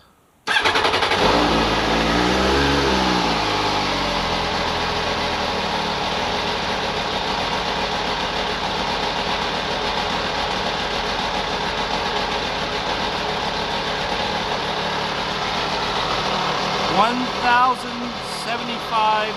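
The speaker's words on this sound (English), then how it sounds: "let's go ahead and get the bike started up" An MV Agusta F3 motorcycle engine cranks and fires, revs briefly, then settles into a steady, loud, close idle for a long stretch, with a short blip of the throttle near the end.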